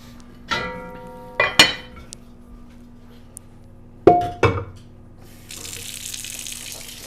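Tap water runs into a pot of small potatoes in a kitchen, starting in short bursts with clinks of the pot, then settling into a steady rushing fill near the microphone.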